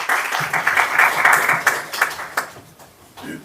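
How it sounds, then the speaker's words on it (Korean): Seminar audience in a city council seminar room claps for a speaker, a short burst of applause that thins out and fades to quiet by the end. "힘찬 박수 부탁드리겠습니다."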